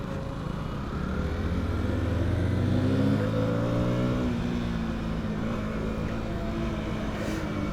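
A KTM Duke 160 motorcycle engine runs steadily while riding, its pitch rising as it revs up and then settling into a sustained drone, with wind rush over it and no talking.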